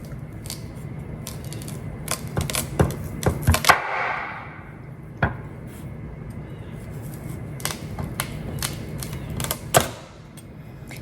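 A knife chops through a very hard vegetable into thirds on a cutting board, producing irregular sharp knocks and clicks with a scraping swish partway through.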